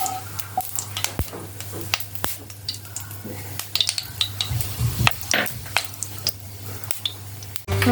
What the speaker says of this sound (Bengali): কড়াটা গরম হয়ে গেছে, এতে আমরা সর্ষের তেল দিচ্ছি।